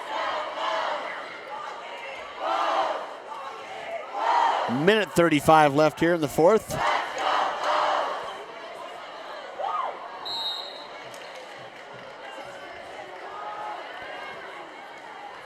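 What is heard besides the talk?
basketball fans cheering in gym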